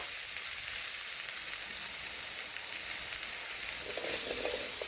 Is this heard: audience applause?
no